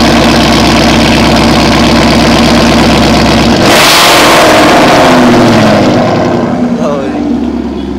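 Engine of a wedding rental car, such as a G-Wagon, idles loudly close by, then revs hard in a roaring burst and settles back to a steady rumble; voices talk over the engine.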